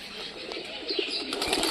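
Pigeons kept in a large flock flutter their wings in soft bursts, with faint cooing and rustling nearby, moderate and fairly close.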